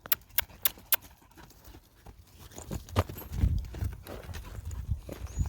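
A spirited mare's hooves clip-clop on hard ground, a few sharp knocks at first, then softer, heavier shuffling steps close by.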